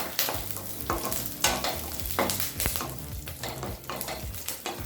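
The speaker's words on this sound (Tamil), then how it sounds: "இப்போ இதெல்லாத்தையும் நல்லா வறுத்துக்கலாம்." Coconut pieces and raisins roasting in ghee for broken wheat payasam, with a spoon stirring through the pan in repeated scraping strokes over a steady, close sizzle.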